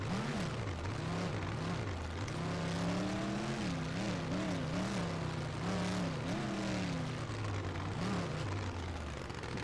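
A heavy monster truck engine in a video game revs up and down repeatedly, its pitch rising and falling in waves, loud and continuous without any talking.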